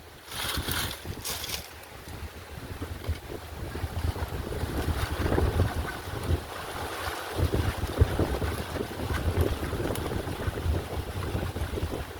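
Strong wind gusts roar across the microphone outdoors while dry palm leaves burn to roast palmyra fruit at Mannithalai, with a steady rushing blast that swells and falls throughout and no clear talk.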